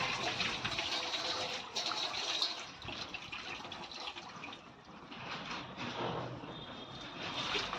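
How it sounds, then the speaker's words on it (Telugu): Tamarind water poured into a pot of simmering home-made fish curry, giving a steady splashing, liquid rush that swells and eases across the whole stretch, close by with no talk. "ఇప్పుడు మనం చింతపండు నీళ్ళు వేసుకోవాలండి"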